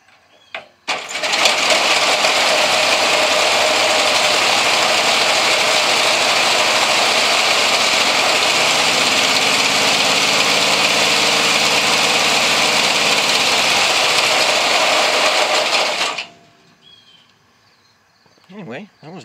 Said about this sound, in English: Smoothed out when she revved up. Well, I had some short runs out of the flat six there.